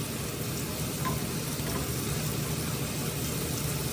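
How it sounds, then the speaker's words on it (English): Potatoes searing in a hot pan, a dense, steady sizzle and crackle of frying that holds level throughout, close and alone with no talk. "Make sure to scorch and sear both sides of the potatoes."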